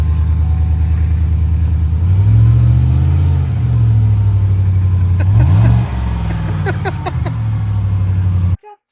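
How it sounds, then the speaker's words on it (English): A 2018 Chevrolet Tahoe engine with its muffler removed roars loudly and roughly as it's revved up a few times, deep rumbling swells rising and falling before cutting off abruptly near the end. "Give her some revs."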